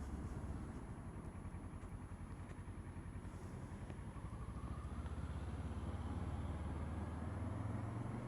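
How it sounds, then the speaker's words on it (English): A 2014 Kawasaki Versys 650 parallel-twin motorcycle idles steadily while warming up, a close, continuous low engine throb with an even pulsing rhythm and no talk. "It's a 650 parallel twin. I'll let her warm up before I give her some beans."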